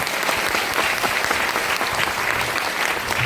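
Dense, steady applause from an audience at a motivational seminar, many hands clapping at once and loudly, filling the whole moment without a break.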